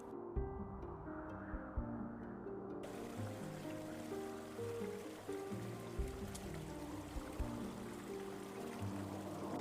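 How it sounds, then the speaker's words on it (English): Stream water flowing under autumn shore ice in the Nepal mountains, a low, muffled, continuous gurgle and rush, fairly faint and steady throughout. "The sound of flowing water is muffled as ice limits the channel"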